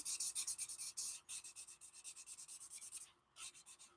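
Chisel tip of a marker rubbing back and forth across paper, laying down a light green base coat in quick, steady repeated strokes, close and fairly loud with a brief pause near the end.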